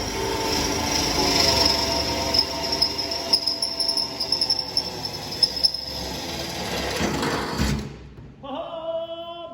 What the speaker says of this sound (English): I'm gonna start drilling some holes.